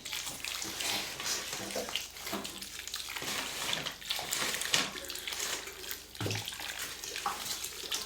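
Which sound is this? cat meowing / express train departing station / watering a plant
watering a plant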